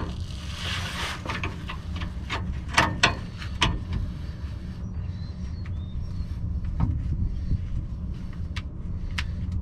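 A Kobalt power tool works on the exhaust bolts of a 1968 International Travelette, making a whirring, ratcheting mechanical sound with sharp clacks and bursts, close up and without talk.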